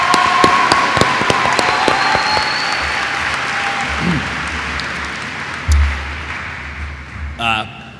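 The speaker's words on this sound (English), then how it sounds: "they deserve just an enormous round of applause for what they've done" Audience at a school district board meeting gives a round of applause for teachers who spoke, the clapping steady across the clip with a few thumps and a brief voice near the end.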